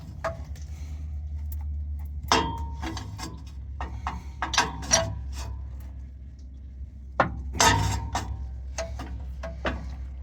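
Metal wrench clicks and clanks against an old truck during an oil change, a few sharp knocks and scrapes scattered over a low steady hum, close by with no talking.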